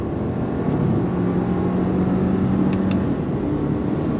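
2024 Subaru Impreza RS with its boxer four-cylinder engine accelerating at speed, a steady moderate engine drone with a faint rising tone and road noise heard from inside the cabin, no talk.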